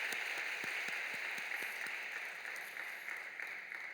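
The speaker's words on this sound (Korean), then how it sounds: "다시 한번 큰 박수 해주시기 바랍니다" A church congregation claps after a scripture reading, a steady, fairly faint wash of applause with no voices.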